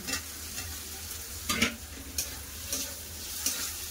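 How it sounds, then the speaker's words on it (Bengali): Tomato and onion fry in hot oil with a steady sizzle while a utensil stirs them in the pan, scraping at intervals with a few sharper knocks. No one speaks. "টমেটো পেঁয়াজ ভালো করে ভাজা হয়ে গেছে।"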